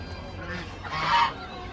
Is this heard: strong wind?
no